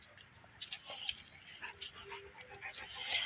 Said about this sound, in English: You're a good puppy.